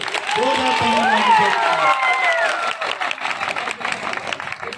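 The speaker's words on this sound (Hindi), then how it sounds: "ताली इतनी जोर से बजाओ कि हमारे सारे अतिथि खुश हो गए" An audience claps and cheers at a Jharkhand youth organisation's first foundation day event, a loud, sustained burst of applause with a voice speaking over it before the clapping thins out.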